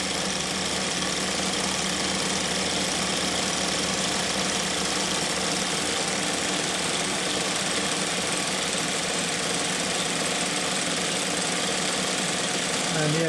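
A pre-war Mamod toy steam engine runs with a steady, fast mechanical chugging and whirring, close and continuous, while a voice talks over it.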